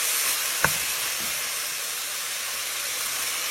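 Pepper steak meat sizzling and browning in a hot pan while being stirred: a steady, even hiss that runs throughout, with one brief utensil click near the start.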